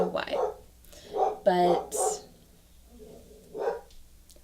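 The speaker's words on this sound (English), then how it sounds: "I'm sorry if you can hear my dog. He's upset about something." A pet dog barks and yelps in short bursts around speech, a few sharp yips standing out over a voice indoors.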